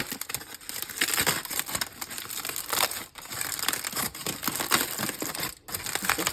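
Foil crinkling and crumpling as air-fryer-grilled dibi meat is unwrapped, continuous close rustling and crackling throughout.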